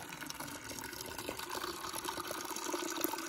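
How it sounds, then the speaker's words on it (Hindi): Spring water pours steadily into a vessel being filled to measure the spring's discharge, a continuous close splashing gush with no talk. "जैसे हम ये वाला बर्तन भरेंगे और इसको भरने के बाद देखेंगे कि ये कितना लीटर पानी निकल रहा है।"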